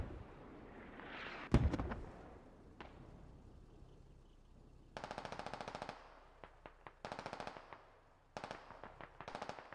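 Gunfire in the Squad video game, a loud close shot, then a distant boom, then several rapid automatic bursts crackling in short strings.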